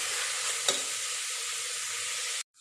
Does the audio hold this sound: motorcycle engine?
no